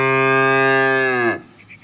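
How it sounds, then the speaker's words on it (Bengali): A cow gives one long, loud, close moo that holds steady and then drops away abruptly, leaving a quiet background. "গরুটাকে কিছু বললি না"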